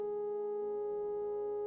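Synthesizer sine wave self-modulating through linear FM, a steady pure tone whose pitch sinks as the modulation is eased back, with a thin layer of harmonics above it and no voices.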